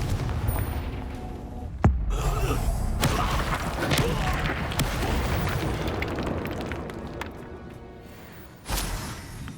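A Confringo blasting spell explodes in Hogwarts Legacy, with sharp booming bursts near the start and end over a steady rumbling bed of game noise.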